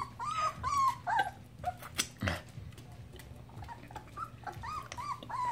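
A Dogo Argentino puppy whimpers and yips in short, high-pitched bursts, close by, with a few low grumbles between the cries.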